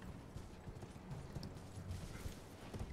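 A horse gallops in Elden Ring, with quiet, continuous hoofbeats in a quick, repeating clip-clop pattern and no one speaking.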